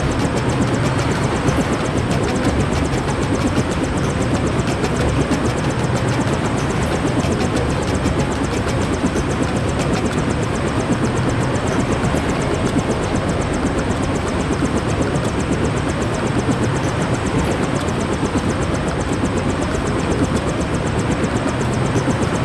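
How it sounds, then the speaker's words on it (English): Steady, loud helicopter rotor and engine roar in the video game Deus Ex, a constant broadband drone that holds without a break for over twenty seconds with no voices. "Take the helicopter back to base."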